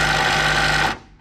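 An impact wrench tightens a tie rod nut on a Ford Torino in one short, loud, rapid hammering burst close by that stops abruptly, leaving near silence.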